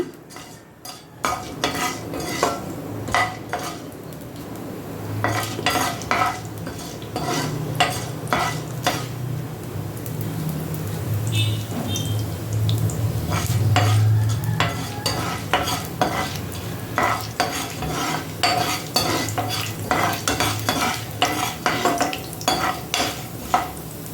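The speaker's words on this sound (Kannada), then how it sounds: "ಸ್ವಲ್ಪ ಲೈಟಾಗಿ ಕಲರ್ ಚೇಂಜ್ ಆಗೋದು ಮಾತ್ರ ಫ್ರೈ ಮಾಡ್ಕೊಳ್ಳೋಣ ಉದ್ದಿನ ಬೇಳೆನ." Urad dal stirred as it fries in a pan for mint chutney, a steady sizzle under repeated scraping and clinking strokes of a spoon against the metal, close and continuous throughout with no voices.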